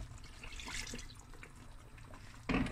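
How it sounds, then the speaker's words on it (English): Water pours into a cooking pot of Cape Malay tomato ox trotter stew, a short liquid splash that swells loudly near the end after quieter kitchen noise. "Add some water."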